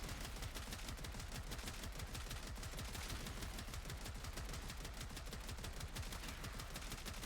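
Multiple grenades go off in rapid succession in a video game, a dense, continuous barrage of crackling blasts and gunfire-like pops at constant loudness with no pauses.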